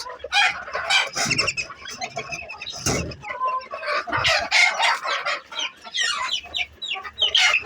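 Chickens of a silver Cochin and Brahma cross cluck and chatter close by in a busy flock, with overlapping calls, a few louder squawks and a crow-like outburst, no voices.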